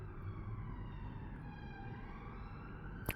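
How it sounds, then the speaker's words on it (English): Police sirens from a protest in Parliament Square wail faintly in the distance, with slow rising and falling tones over a low background rumble of the surrounding city. "the reason you can hear all the sirens is there's a big protest going on in Parliament Square at the moment."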